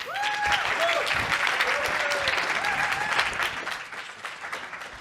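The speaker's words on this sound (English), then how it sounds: "je vous prie de vraiment faire un tonnerre d'applaudissements" Loud, sustained applause from a large conference audience, dense clapping filling the whole stretch, with a few voices and whoops rising over it.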